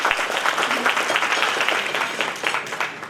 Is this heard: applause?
yes